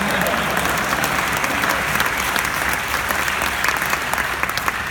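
Theater audience at The Music Box Theater breaks into sustained, dense applause during a film Q&A, loud and even throughout with a faint crowd murmur beneath.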